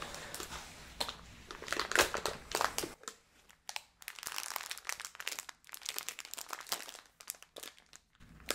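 Hands dig through a crinkly bag holding rice and beans, making close, uneven bursts of plastic crackling and rustling with short pauses between handfuls.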